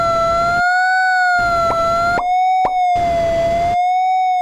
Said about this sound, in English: it's a French police siren